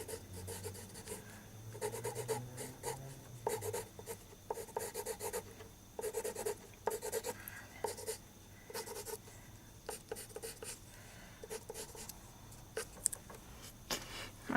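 Promarker markers squeak and rasp across paper while a container drawing is rendered, in quick bursts of short strokes with brief pauses between them, close and fairly quiet.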